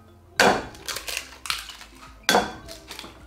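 Eggs and sugar whisked in a bowl for an avocado chocolate brownie batter, sharp close clinks of utensil against the bowl in irregular bursts with short pauses between strokes.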